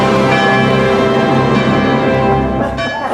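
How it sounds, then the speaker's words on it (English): A bell rings out loud and close, a rich sustained clang with long overlapping overtones that ring on for a few seconds without fading away, heard alone. "every time you hear wedding bells"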